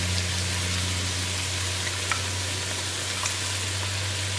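Tomatoes and garam masala frying for chicken biryani give a steady close sizzle with a low hum underneath, constant and unbroken throughout.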